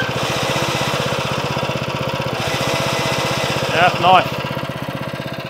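A Cobra Fortis 20B cylinder lawn mower engine idles close by with a steady, rapid putter. A voice briefly speaks over it.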